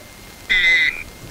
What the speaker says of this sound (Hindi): वो मेंढक बोल रहा है?